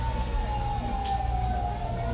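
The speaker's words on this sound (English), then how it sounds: "Sounds like sirens." Emergency vehicle sirens wailing out in the countryside, a steady wavering tone sounding somewhat distant under low background rumble.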